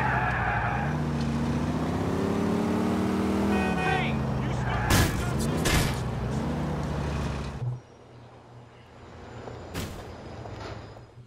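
In Grand Theft Auto IV, a car engine roars with screeching tire skids, then two loud crunching impacts hit as a car slams into a parked car, followed by quieter engine hum.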